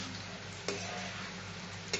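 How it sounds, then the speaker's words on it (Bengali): Pumpkin and prawns are stir-fried over raised heat, giving a steady sizzle with two scraping stirs of a utensil against the pan. "আঁচটা বাড়িয়ে একটু কষে নেব"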